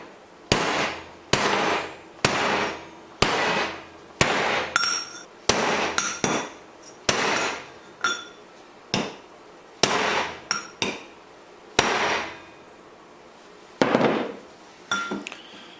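Hammer blows on metal, flattening the bottom of a stand for an e-bike, ring out in a steady series of about fifteen sharp, loud strikes with brief gaps, each with a short metallic ring.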